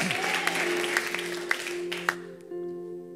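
A church congregation at a Sunday morning service applauds with a brief burst of dense clapping that thins out and stops, while a sustained organ or keyboard chord carries on underneath.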